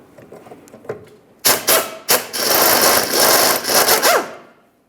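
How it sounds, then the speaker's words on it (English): Wrench work on a 13mm nut of a rear sway bar link on a 2003-2011 Mercury Grand Marquis: a few sharp metallic knocks, then a loud, close stretch of grinding, rasping turning with brief pauses before it fades out. "You'll find a 13mm headed nut. Remove that nut and the rubber bushing."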